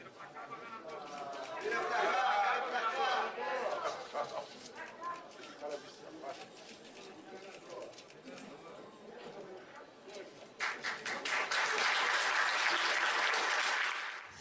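Crowd applause at the Rio de Janeiro governor's inauguration ceremony, sustained clapping that swells, dips slightly, then rises again near the end, with background chatter mixed in, somewhat distant and moderately loud.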